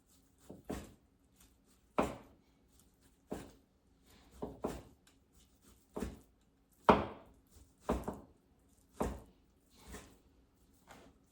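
Knife chopping green onions on a cutting board for a pork dish, about a dozen crisp, separate cuts in an uneven rhythm, close and clear over a quiet room.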